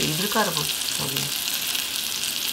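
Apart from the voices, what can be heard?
hairtail fish coated in flour frying in a pan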